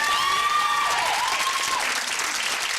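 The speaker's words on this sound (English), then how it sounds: "Give them a round of applause." A studio audience on a 1990s TV quiz show claps continuously for contestants still in the game, a bright, steady ovation with a brief tonal musical sting sounding over the start.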